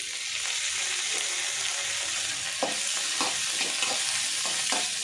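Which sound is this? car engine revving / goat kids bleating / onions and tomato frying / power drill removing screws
onions and tomato frying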